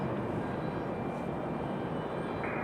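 A small American Embraer E175 regional jet arriving from Chicago O'Hare at Raleigh-Durham airport gives a faint, distant, steady engine roar with no talking.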